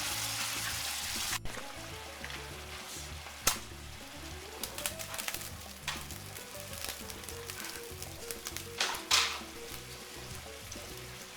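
Apples flambéing with armagnac in a pan give a steady crackling sizzle with scattered sharp pops and spits, close and moderately quiet, with no talking.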